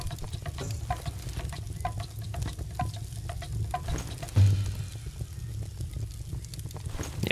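Steady sizzle and crackle of food cooking over an open fire in the survival game Tribe: Primitive Builder, a continuous low, even bed of frying noise with small pops and no voices.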